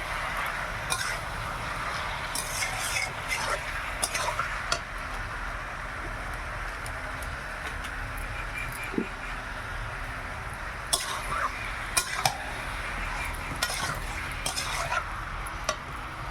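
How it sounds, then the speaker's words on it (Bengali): Chicken pieces frying in a pan with chili powder and spices, a steady low sizzle under repeated scraping and clinking of a spatula against the pan, with no voices. "মাংসটা কিছুক্ষণ ভেজে নিই"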